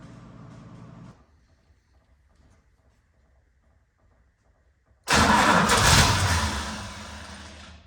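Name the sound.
old car engine starting, first time in 30 years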